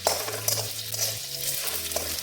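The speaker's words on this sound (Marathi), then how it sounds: "चांगला तेलावर गोल्डन ब्राऊन होत तर आपण तळून घेणार आहोत" Potato pieces frying in oil until golden brown for sabudana khichdi, a steady sizzle with stirring scrapes and a low hum running underneath, close and fairly loud, with no voices.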